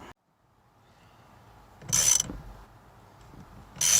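Bolts being tightened on a puller to pop a part off, with two short loud bursts of metallic ratcheting and grinding over a quiet background of faint mechanical rumble.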